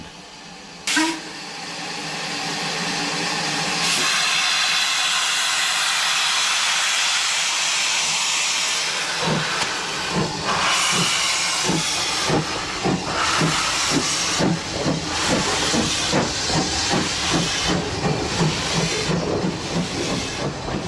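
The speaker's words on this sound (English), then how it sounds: "Ivert's Class 2 locomotive was to become one of the blueprints of standard design." An Ivatt Class 2 steam locomotive hisses loudly with a sustained rush of escaping steam, then settles into a rhythmic chuffing and clanking beat as it works, close and continuous throughout.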